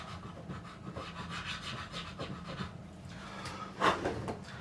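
A file rasping back and forth across the nut of a luthier-built Telecaster-style guitar, a series of short scraping strokes up close, with a louder scrape near the end and no talking.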